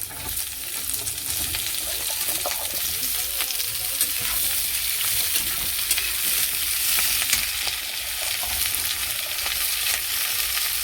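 Cauliflower stems, papaya, beans and potato frying in a pan, a steady loud sizzle with repeated scraping stir strokes, close and without talk.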